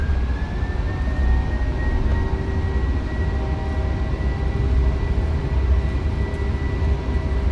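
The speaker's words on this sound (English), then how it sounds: "Set takeoff thrust." Engines on a TUI Boeing 737 spool up to takeoff thrust at Sal, a rising whine settling into a loud, steady roar heard from the cockpit that holds without pause.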